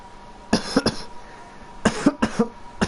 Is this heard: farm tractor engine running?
no